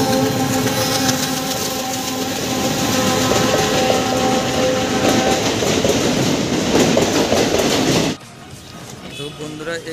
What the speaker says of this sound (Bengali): এই যে আমাদের ট্রেন ছেড়ে দিয়েছে মাত্র